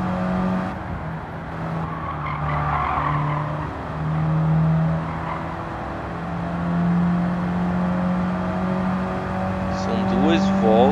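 A Mini Cooper races in Gran Turismo 7, its engine droning and shifting pitch steadily with tire squeal and rising revs near the end, while someone talks over it throughout.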